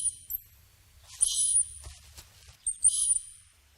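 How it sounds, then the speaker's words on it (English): High-pitched electronic squeaks played from a speaker hidden at the back of a room, coming in two short bursts of thin chirping tones with quiet gaps between. "speaker is hidden at the back of the room and is used to play the high-pitched squeaks"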